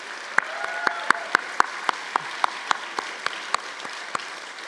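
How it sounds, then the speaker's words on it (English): Scattered audience applause at a university convocation: sparse, individual hand claps at an even pace, fairly faint and distant in a large hall, thinning out toward the end. "Please give them a round of applause and for Marcel, Justin, and Marla."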